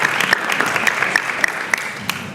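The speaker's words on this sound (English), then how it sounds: "Warm applause." Warm applause from an audience at the close of a talk, a dense steady patter of many hands clapping with sharper individual claps standing out, filling the room evenly throughout.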